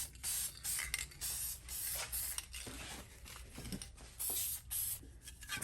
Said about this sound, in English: So we'll just spray this on a couple of coats